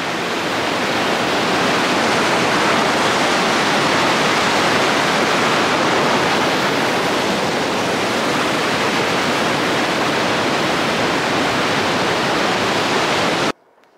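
Paiute Creek rushes beneath a trail bridge on the Pacific Crest Trail, a loud, continuous hiss of churning water that holds steady before cutting off abruptly at the very end.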